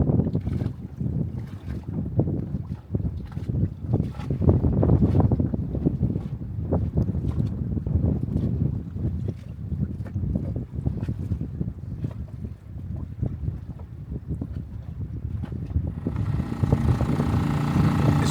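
A cruiser boat motors away from an anchorage at La Rochelle. A steady low engine rumble lasts throughout, mixed with heavy wind buffeting the microphone and lapping water. The wind noise surges louder near the end.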